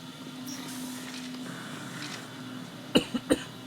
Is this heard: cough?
yes